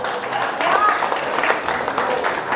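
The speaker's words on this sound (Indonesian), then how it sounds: "Aplaus dulu ya." An indoor audience breaks into applause at a sales coaching seminar, a dense burst of clapping that is loud and close and lasts the whole short moment, with a voice faintly over it.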